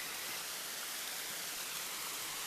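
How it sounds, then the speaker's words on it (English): A small wilderness waterfall rushes in a steady, broadband hiss, continuous and moderately distant with no voices. "Nice little waterfall there."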